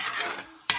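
A spoon stirs a thick eggplant and potato curry with tomato in a pan, a soft close scraping swirl that ends with one sharp clink.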